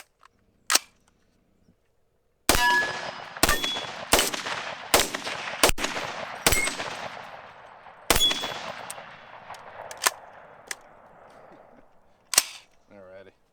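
Loud single shots of 7.62x39 rounds fired from an AR rifle outdoors, about a dozen sharp cracks spaced roughly a second apart with ringing decay, some talk faintly between them.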